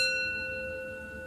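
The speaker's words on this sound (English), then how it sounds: "Now I'm going to signal a bell to start the meditation." A meditation bell sounds a short, faint, steady ring that slowly fades, with a pure sustained tone and no other sounds.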